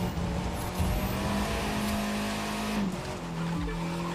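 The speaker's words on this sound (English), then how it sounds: "A little smooth drifting." A car drifting in The Crew 2 racing game, with a continuous tire squeal and skid over a steady engine drone, loud and sustained with a brief pitch drop near the end.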